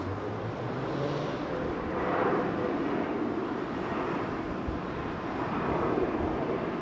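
Turkish Airlines Boeing 777 touching down and going around in a crosswind: a faint, steady broadband jet rumble with gusty wind buffeting, swelling slightly and then fading, heard from a distance.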